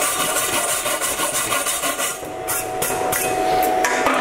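Welding slag is chipped and scraped off a fresh weld bead, a rapid rough rasping and ticking of metal on metal with a few sharper knocks, loud and close with no speech.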